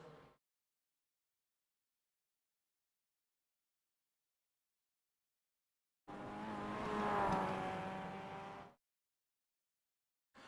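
Mazda MX-5 race cars lap the Charlotte Roval in the iRacing sim racing game. A loud engine roar swells and fades over a few seconds after a long silence.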